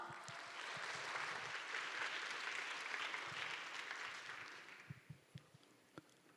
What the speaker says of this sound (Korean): 우리 큰 박수로 이 시간 함께 나가도록 하겠습니다